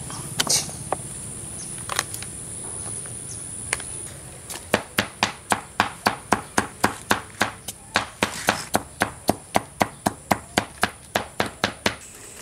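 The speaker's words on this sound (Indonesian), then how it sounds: "Nanti akan kita cacah sehalus mungkin ya." Banana corm being chopped finely with a blade: a few scattered knocks at first, then a fast, steady run of sharp, loud chops close by, with no talking.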